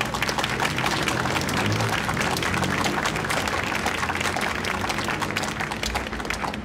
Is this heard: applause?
yes